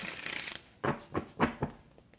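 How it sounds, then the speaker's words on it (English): Tarot cards shuffled by hand close up: a sustained riffling shuffle, then three or four separate short, crisp bursts of card flutter with brief pauses between them, no talking. "I'm going to give these just a few shuffles so that we can move forward"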